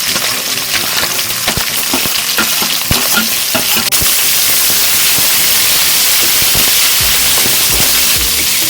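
Loud, steady sizzling of chopped large onions frying with chana dal, green chilies and curry leaves in a hot pan for potato masala, with crackles and pops and occasional stirring scrapes throughout.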